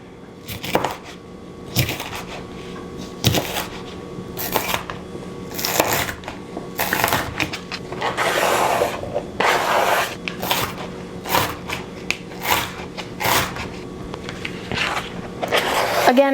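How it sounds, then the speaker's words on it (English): A knife dices an orange bell pepper into small pieces on a cutting board for a Texas caviar veggie salad, with quick repeated chopping taps and crunches at close range and no talk. "Same thing with our orange pepper. Same little small dice to it."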